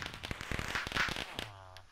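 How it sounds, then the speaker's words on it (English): Fireworks in the Minecraft video game on PlayStation 4 go off as a quick run of sharp crackling pops and bangs, dense and fairly loud, then a short fizzing tail. "Oh, it's fireworks."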